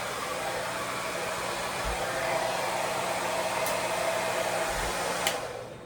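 A handheld hair dryer blows a steady, close, loud rush of air while drying the ends and mid-lengths of someone's hair, with only faint bumps as it moves, and no one speaking.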